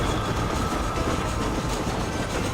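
A train in the Red Dead Redemption video game rolls along the rails with a steady, dense rumble and faint clatter, loud and continuous throughout.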